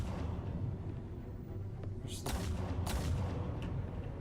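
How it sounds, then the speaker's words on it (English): Gunfire in the Batman Telltale video game, a few sharp shots cracking over a dense, rumbling low backdrop of game sound, loud and close. "Is this supposed to be shooting right now?"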